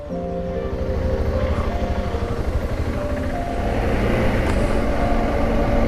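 Steady engine drone of motorbikes riding in eastern Croatia, a pulsing rumble that swells slightly louder toward the end, with no talking.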